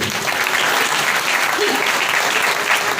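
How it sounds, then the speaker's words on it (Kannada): A church congregation at a Sunday service claps together in sustained, dense applause, loud and even throughout, with some voices mixed in. "ಎಲ್ಲ ಜೋರಿಗೆ ಚಪ್ಪಾಳೆ"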